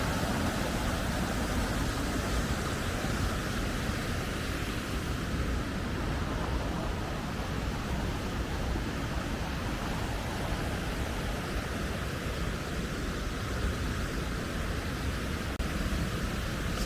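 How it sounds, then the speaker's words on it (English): A steady, broadband rush of a creek flowing beside the Bob's Creek campsite on the John Muir Trail, constant and close, filling the whole stretch without a break and with no voices. "It's a really nice creek."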